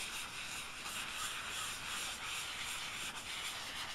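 Powdered black charcoal dry guide coat is rubbed by hand onto the bodywork of a 1972 K25 truck cab, a soft, continuous, close-up scrubbing hiss with a faint even rhythm.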